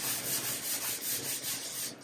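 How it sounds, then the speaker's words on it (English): Sandpaper rubbed by hand over painted metal on a 1951 Vendo 39 Coke machine, around the embossed lettering, making close, rhythmic scratchy strokes, about seven quick back-and-forth passes in two seconds. "I always try to sand in an angle"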